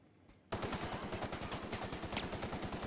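Rapid automatic gunfire from the video game The Outer Worlds starts abruptly after a moment of quiet and continues as a fast, steady rattle of shots, close and loud.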